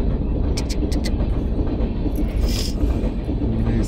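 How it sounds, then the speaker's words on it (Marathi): The Rajdhani Express rolls past a railway crossing at Roha, a loud, steady rumble of wagons with sharp rhythmic wheel clicks close by. "आम्ही थांबलोय रोहा फाटक आणि ही चालली ट्रेन"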